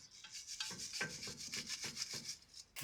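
A brush scrubs the brake caliper of a BMW X5 with 361,000 km in quick, rhythmic rasping strokes, about eight close, crisp back-and-forth scrapes with brief gaps.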